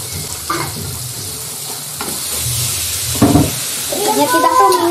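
Mushrooms stir-frying in hot oil with spices hiss and sizzle steadily, with a few clattering stirs and a brief splash as water is poured in near the end, close and fairly loud.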